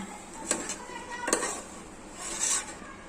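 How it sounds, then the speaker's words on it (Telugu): A spoon stirs tomato and gokara kaya curry in a pan, giving a few soft scraping clinks against the metal and a faint sizzle underneath. "టమాటో మగ్గిన తర్వాత ఇంకా మొత్తం కలుపుకోవాలి"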